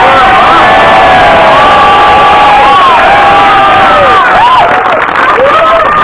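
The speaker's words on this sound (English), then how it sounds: "let's have another round of applause" Loud crowd cheering and applause at an outdoor mask burning celebration on Milwaukee's south side, with whoops, shouts and children's voices rising over continuous clapping, close and dense.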